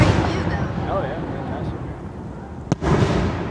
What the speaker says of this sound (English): You're way closer to the explosion. You feel it more here.